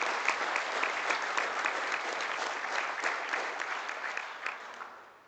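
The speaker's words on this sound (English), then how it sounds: "Would you give him a round of applause of all the things that you've never seen him do?" Applause rings out at a livestock judging awards ceremony, a crowd clapping steadily at moderate volume before fading out near the end.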